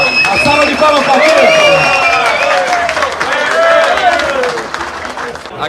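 Applause from a live audience at a Santos–Flamengo event, a dense continuous patter of clapping with crowd voices and murmuring throughout, fairly loud and close.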